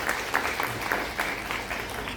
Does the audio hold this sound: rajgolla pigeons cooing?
no